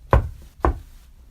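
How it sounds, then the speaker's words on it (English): Two sharp knocks on wood, about half a second apart, close and distinct with nothing else around them. "Knock on wood."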